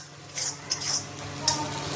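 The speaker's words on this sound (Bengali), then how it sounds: "যতক্ষণ না কড়ার থেকে পুরো ছেড়ে যাচ্ছে ততক্ষণ আমি এভাবে ভাজবো" Mashed masoor dal being fried and stirred in a wok with sugar added, a spatula scraping in broad strokes with bursts of soft sizzle and occasional clinks of metal, close and fairly loud with no talk.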